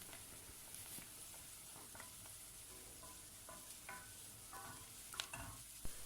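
Onions sizzle and crackle steadily in hot oil in a pan, with occasional stirring scrapes and clicks, quiet and close.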